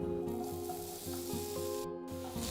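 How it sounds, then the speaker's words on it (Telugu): Small chopped potato pieces frying in a pan for a Navaratri prasadam dish, a dense continuous sizzle at moderate level with no voices. "ఇప్పుడు ఇందులో చిన్న ముక్కలుగా తరిగిన బంగాళదుంపను వేసుకోవాలి"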